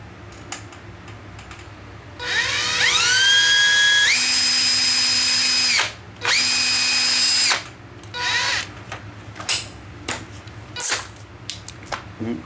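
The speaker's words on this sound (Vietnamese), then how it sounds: "Em kẹp vô cái đầu mũi khoan nè mọi người" An electric drill with a bit clamped in the chuck whines up to speed in two close, loud bursts of a few seconds each, its pitch climbing then holding, followed by scattered clicks and handling noises.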